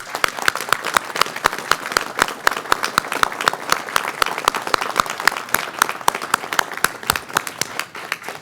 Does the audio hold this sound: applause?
yes